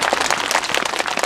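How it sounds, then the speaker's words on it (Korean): Audience applause at a ceremony marking Samcheok's Jukseoru pavilion becoming a national treasure, a dense outdoor crowd clapping steadily and fairly loudly with no talk over it. "이럴 때 박수 한번 주세요."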